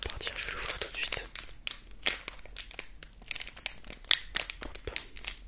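A Pokémon card booster pack wrapper being torn open and crinkled up close, with sharp irregular crackles and rustles in bursts; soft whispered talk accompanies the handling.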